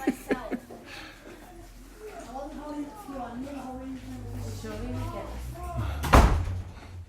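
A door is opened and held, then thuds shut with a sharp, heavy slam near the end, while several people talk and a voice speaks over it.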